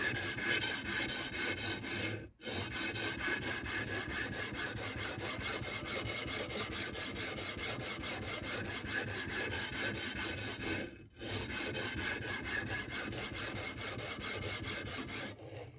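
A knife blade is drawn across a sharpening stone on a guided system, a continuous rough scraping rasp with steady back-and-forth strokes, broken by two brief pauses, alone and close.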